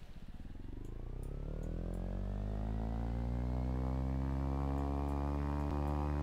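Single seat battery electric plane motor from a flight simulator game, a smooth tonal whine rising steadily in pitch as it spools up, then holding a steady hum, moderately quiet and alone.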